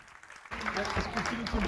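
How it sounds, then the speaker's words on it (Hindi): An audience at a podcast recording bursts into applause welcoming a guest, a sudden loud wash of many clapping hands that starts after a brief quiet moment and continues steadily. "आप सबकी जोरदार तालियों के बीच में मैं बुलाना चाहता हूँ"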